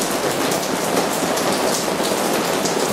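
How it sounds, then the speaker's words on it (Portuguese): Steady rain pours down outside during a family barbecue, a dense, even hiss of drops drumming on surfaces, close and continuous with no voices. "Olha, a chuva não para."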